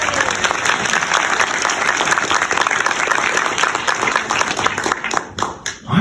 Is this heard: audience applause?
yes